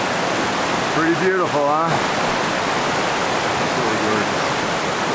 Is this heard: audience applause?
no